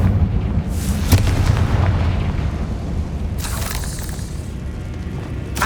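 A Confringo blasting spell goes off in Hogwarts Legacy, a heavy, sustained boom with rumbling low end and a couple of crackling bursts, loud and continuous, with no talking.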